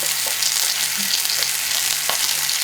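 Chicken sizzles steadily in a frying pan, a continuous bright crackle with a few light scrapes, close and fairly loud, with no talking.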